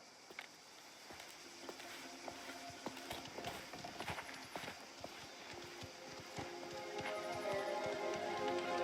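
Horse hooves clip-clop in Mafia: The Old Country, set in Sicily in 1904, a quick run of sharp, fairly faint hoofbeats over soft background ambience, rising slightly louder toward the end.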